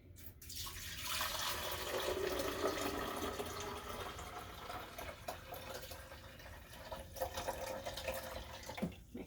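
Descaling solution is poured from a container into the water reservoir of a Keurig coffee machine, a steady close liquid pour that runs for several seconds and tapers with a few small splashes.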